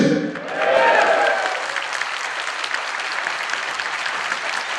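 Audience applause at an AK Party political meeting in Bolu, a broad, steady wash of many hands clapping that swells briefly early on and then holds even, with faint voices under it.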